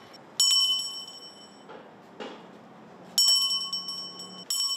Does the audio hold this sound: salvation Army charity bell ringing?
yes